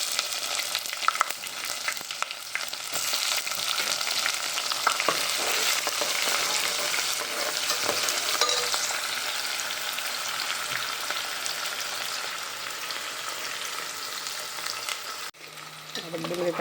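Onions and cumin seeds sizzle loudly in a pan, a dense continuous hiss with scraping stir strokes, close up and without talk, the sizzling dropping away abruptly near the end.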